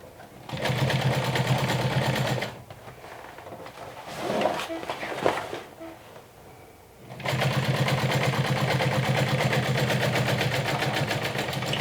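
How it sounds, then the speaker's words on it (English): Sewing machine topstitching an eighth of an inch from the edge of a garment's main fabric, a close steady rapid whir that runs, pauses for several seconds of quieter handling, then resumes. "I'm top stitching with 1/8 of an inch away"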